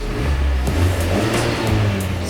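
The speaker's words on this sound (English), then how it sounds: "Let's give this thing a little rev just to see how it sounds." A mostly stock 2018 Honda Civic Type R engine revs up in a few surges, a deep throaty roar rising and falling close by.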